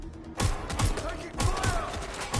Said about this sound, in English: Get to cover! Taking fire!